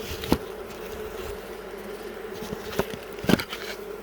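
Bees buzz near their hive outdoors, a low steady drone running through the whole moment with a few louder passes and light taps close by.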